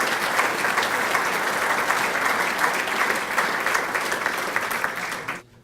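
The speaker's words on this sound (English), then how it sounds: "Big round of applause." Volunteers at a celebration event clap for golf course staff in a sustained, even round of applause from a sizable crowd that fades and stops abruptly at the end.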